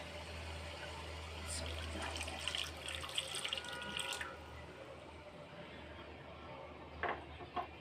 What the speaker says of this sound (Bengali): তো এখন আমি মশলাটাকে আরও ভালোভাবে কষানোর জন্য কিছুটা পানি যোগ করব।